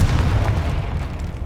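A Confringo spell explosion in the video game Hogwarts Legacy: a loud, deep boom with a rumbling roar that holds for the full moment without any speech.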